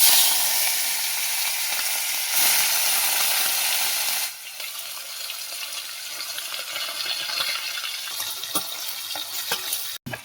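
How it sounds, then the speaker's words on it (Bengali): Koi fish frying in hot oil, a continuous close sizzle and crackle that is loud for the first few seconds, then drops to a quieter, spattering fry with occasional pops. "তেল গরম হয়ে গেছে, মাছগুলো ভেজে নেব।"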